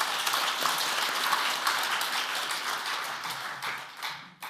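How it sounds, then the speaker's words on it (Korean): Sustained applause from a church prayer meeting congregation, dense steady clapping that fades slightly toward the end, with a few final claps. "감사의 박수를 드리겠습니다"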